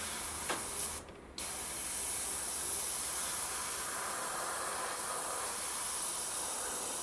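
A Steinbeck Evolution CR Plus airbrush with a 0.3 needle sprays paint onto a 1/48 Airfix Avro Anson model, giving a steady, close hiss with a brief dip early on before it resumes evenly.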